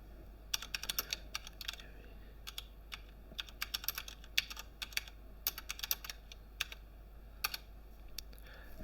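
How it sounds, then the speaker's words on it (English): Keys on a computer keyboard click in quick irregular clusters with short pauses, close but quiet over a low steady hum, as someone types answers. "typing in the answers as I go"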